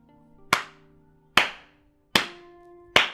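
Four slow, loud, isolated hand claps from one person, spaced under a second apart, each a sharp crack with a short ringing decay over a faint background tone.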